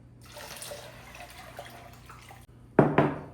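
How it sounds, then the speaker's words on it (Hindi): One liter of water pours into a cooking pot of haleem with a soft, rushing splash, followed by two sharper sloshing splashes near the end. "इसके अंदर 1 लीटर पानी डालें"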